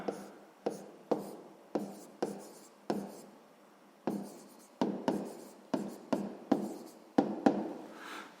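A pen writes out a math check on paper, close and clear, in short scratchy strokes about every half second to second, each a quick tap that fades, with no talk over it.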